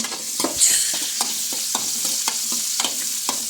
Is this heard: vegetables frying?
yes